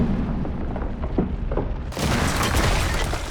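A loud explosion in the science-fiction film Chappie: a dense, roaring blast of broadband noise that swells sharply partway through and stays heavy and sustained, with no speech.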